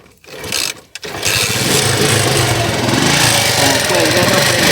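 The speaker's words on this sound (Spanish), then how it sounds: "Cuando haga esto, la moto se va a prender" A motorcycle engine wired for direct lighting without a battery starts after a couple of brief cranking bursts, then settles into a loud, steady, close running drone until the end, with no talking.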